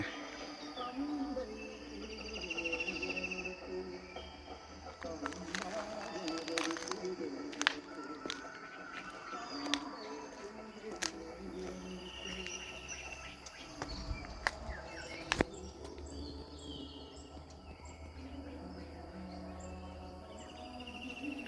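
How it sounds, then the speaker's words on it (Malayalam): Birds chirp intermittently over a constant buzz of insects outdoors near Noolampara waterfall in Kumily, Idukki, in the morning, with scattered sharp clicks and short calls across a quiet, open setting. "നമ്മുടെ കിളികളുടെ കളകരാരവൊക്കെ കേട്ട് ഇവിടെ ഇരിക്കാൻ നല്ല രസം"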